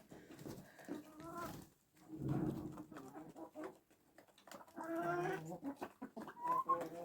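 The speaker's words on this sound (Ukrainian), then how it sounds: "Водить курчаток." A hen clucks softly and repeatedly, mixed with faint high peeping from chicks, close by in a quiet farmyard.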